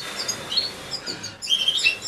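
A canary chirps in short, bright bursts while held upright and tilted back in a hand, with several clear tweets scattered across the moment and louder trills near the end; no one speaks over it.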